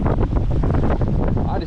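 Heavy wind buffets the microphone outdoors on a winter fishing outing, a constant low roar rumbling and gusting throughout with no pause.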